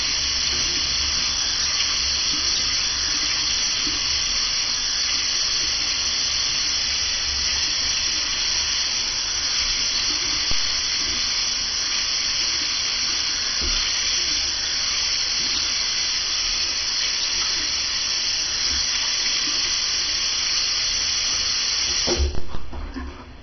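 Tap water pours in a steady, loud hiss while hair is rinsed out, running continuously and alone for most of the stretch before a few sharper splashes near the end as the flow is cut.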